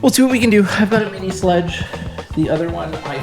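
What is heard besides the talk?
None of the usual background noises is heard.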